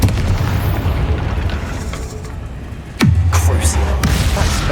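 A Confringo blasting spell in Hogwarts Legacy goes off as a loud, close boom about three seconds in, a descending whoosh followed by a heavy rumbling burst, over a low game ambience.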